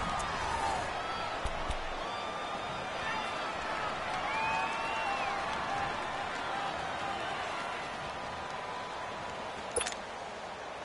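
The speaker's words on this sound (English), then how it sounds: "The crowd here in the Dome making things difficult." Stadium crowd noise inside a domed stadium in a PS4 football video game, a dense continuous roar with scattered whistles and cheers, steady and moderately loud, with a commentator's voice talking over it.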